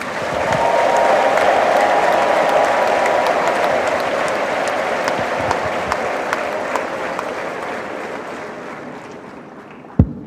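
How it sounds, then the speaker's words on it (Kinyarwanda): A crowd at a church funeral service applauds in a dense, sustained wash of clapping that holds steady, gradually thins and fades, and ends with a single sharp thump. "nsabira amashyi n'impundu"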